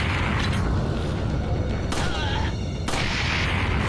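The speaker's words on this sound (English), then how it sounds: "I think I got hit by a grenade there." A grenade blast in a video game firefight: loud booming bursts amid ongoing gunfire, with sharp wideband cracks around the middle and end, no talk.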